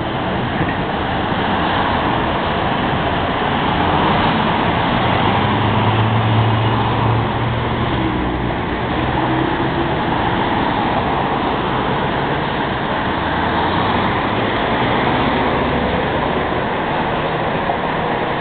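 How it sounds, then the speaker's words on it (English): Dense road traffic at a Dubai intersection as cars turn and a long queue moves, a continuous loud roar of engines and tires with no distinct gaps and no talking. "Now the westbound traffic gets to turn."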